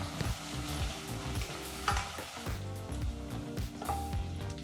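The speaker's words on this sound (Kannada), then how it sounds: "ಜೊತೆಗೆ ಸ್ವಲ್ಪ ಕರಿಬೇವಿನ ಸೊಪ್ಪನ್ನು ಹಾಕಿ 1 ನಿಮಿಷಗಳ ಕಾಲ ಫ್ರೈ ಮಾಡ್ಕೋಬೇಕಾಗತ್ತೆ" Mustard seeds, asafoetida, green chilli, garlic, ginger and curry leaves fry in hot oil for dal khichdi, giving a steady close crackle and sizzle with light clinks of stirring throughout, no voices.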